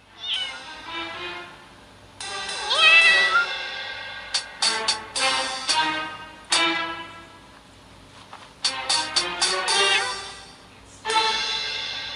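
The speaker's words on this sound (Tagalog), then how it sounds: "Mga alagang pusa ko lang yan." Several pet cats meow in repeated bursts, some drawn-out and some short, fairly close and loud, with brief quiet gaps between calls and no talk.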